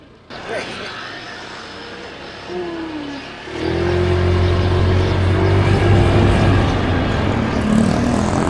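A rented motorbike rides along city streets in Dapitan City, its engine droning steadily and rising in pitch as it speeds up, with wind rush and faint voices in the background.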